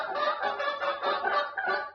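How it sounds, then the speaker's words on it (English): An onagadori hen clucks and chatters steadily among other chickens, a continuous close stream of soft, busy calls with no pauses. "And up there, talking to the rest of the chickies, is our onagadori hen named Kagome."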